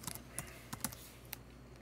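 Short burst of computer keyboard typing, a quick run of close, light key clicks entering a teacher's name, then a single later tap and quiet.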